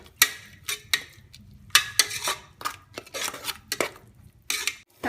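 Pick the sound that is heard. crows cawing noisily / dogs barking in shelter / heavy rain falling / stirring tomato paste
stirring tomato paste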